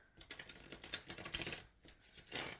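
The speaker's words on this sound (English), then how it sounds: "All right, Spirit, I am shuffling for the collective." A tarot card deck shuffled by hand in a quiet room, with soft riffling clicks and flutters in two bursts separated by a brief pause.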